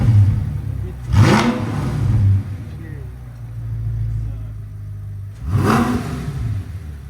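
An Audi R8 with an Armytrix exhaust, valves open, revving sharply twice a few seconds apart over a steady idle, close by, with people talking between the revs.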